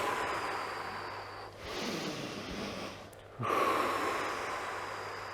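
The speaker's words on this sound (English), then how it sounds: "Breathing in, breathing out." Deep slow yoga breaths draw in and out during a guided session, giving a long airy inhale and a strong exhale close to the microphone over a low steady hum.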